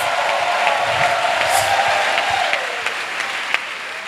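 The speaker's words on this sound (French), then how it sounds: "Clap for Jesus Christ." A church congregation applauds in praise during a French and English service, a dense, steady wash of clapping that holds for several seconds with a faint voice or cheer rising above it.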